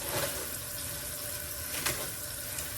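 Running tap water splashes steadily over kale, apple and ginger being washed in a sink, a close continuous hiss with a few brief sharper splashes, no talking.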